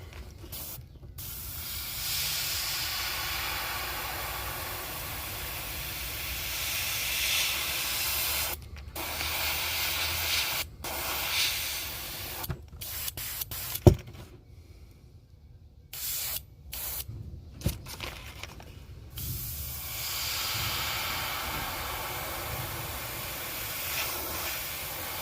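A compressor-fed airbrush sprays paint onto a fishing lure being painted in a black crappie pattern, giving a steady, soft close hiss that runs through most of the stretch, broken by several short pauses.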